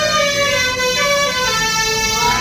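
A vehicle horn blares continuously on the Malshej Ghat road near Mumbai, a loud, steady tonal honk filling the whole moment with traffic noise beneath.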